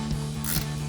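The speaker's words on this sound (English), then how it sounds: "and tighten down your bolt." Ratchet with a 1/2-inch socket tightens a bolt on a Jeep Wrangler speedometer gear install, giving a brief close mechanical whirring and clicking.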